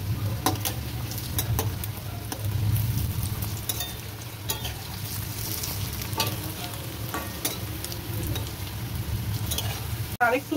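Chowmein chops fry in a pan of oil with a dense, close crackling sizzle and scattered spatula scrapes and taps, steady throughout with no voices.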